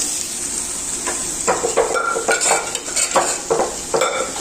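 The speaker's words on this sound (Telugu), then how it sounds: "ఇప్పుడు ముందుగా ఉడికి పెట్టుకున్న ఈ బోటీని డిగ్లేకి వేస్తున్నా" Boiled goat tripe tipped into hot masala in a kadai, giving a series of scraping stirs and metallic clinks over a faint frying hiss, with no one speaking.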